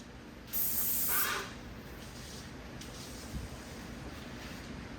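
An airless paint sprayer fitted with a Clean Shot tip blasts a loud hissing spray burst for under a second, then drops away, leaving faint hiss and a brief sputtering spit afterward, with no talking.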